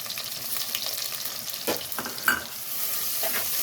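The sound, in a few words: onion sautéing in oil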